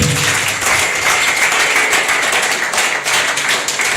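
A church congregation at a deliverance service applauding, dense loud sustained clapping from many hands filling the room without a break.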